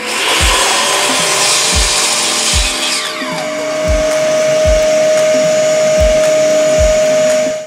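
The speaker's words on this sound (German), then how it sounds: "Also schneiden wir das der Länge nach einmal durch." A hand saw cuts lengthwise through a wooden piece in a regular rhythm of about nine rasping strokes, close and loud, with no voices.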